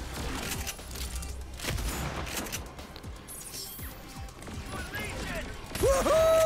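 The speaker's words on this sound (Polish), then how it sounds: "Naprawdę ma niezły zasięg ten shotgun." Shotgun blasts hitting enemies in the video game Agents of Mayhem: several sharp, punchy bursts spread irregularly across a busy mix of game effects, ending with a rising electronic tone.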